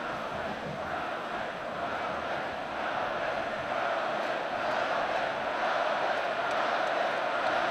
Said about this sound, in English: Crowd chanting Melvin, Melvin.